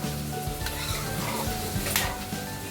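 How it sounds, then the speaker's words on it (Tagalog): Chicken simmering in coconut cream with soy sauce gives off a steady close sizzle with faint bubbling, broken by occasional soft stirring scrapes and light pan clinks, and no talk. "let this simmer until the chicken is cooked"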